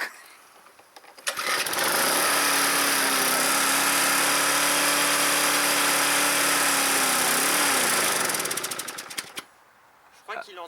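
A small two-stroke engine, low on its fuel-oil mix, starts up and runs at a steady loud idle for about seven seconds with a slight dip in pitch, then cuts out; speech comes before and after.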